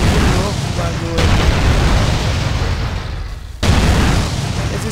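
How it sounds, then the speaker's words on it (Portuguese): Loud, dense rumbling blasts of car explosions in the video game GTA San Andreas fill the clip, with booming explosive bursts overlapping one another and a brief dip before another heavy burst. "As explosões vai, vai que vai."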